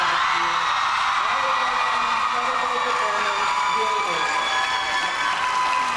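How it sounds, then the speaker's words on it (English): A Comic Con panel audience applauds steadily throughout, a dense wash of clapping with a few scattered cheers. "I think we all just need to give a collective round of applause to Dylan O'Brien for everything he did"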